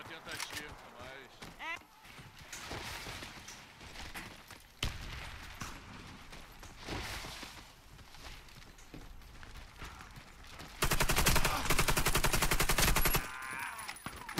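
Automatic gunfire from an AK-47 Gold rifle in the PC shooter Warface, heard as rapid bursts with a long loud burst near the end, mixed with game effects and someone talking.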